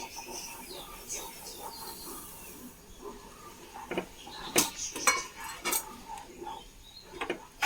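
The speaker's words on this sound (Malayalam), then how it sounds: "നമുക്കൊരു 3/4 കപ്പ് റവ ഇട്ട് കൊടുക്കാം ഇതിലേക്ക്." Semolina (rava) stirred in a pan with crushed rock salt for tomato upma, soft scraping and clinking of a spoon against metal, quiet at first then a cluster of sharper knocks.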